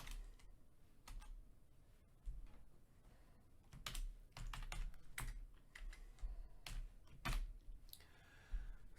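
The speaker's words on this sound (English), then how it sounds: "I'm not very good in typing fast, so my typing speed is just moderate." Keys clatter steadily on a computer keyboard at a moderate pace, with irregular bursts of clicks and short pauses, close and fairly quiet, with no talking.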